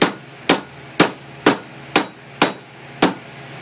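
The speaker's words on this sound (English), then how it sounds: "you hit it with a ball peen hammer." A ball peen hammer strikes a carved steel leaf laid on a forging table, seven sharp evenly spaced metallic blows about half a second apart, close and loud with no talk.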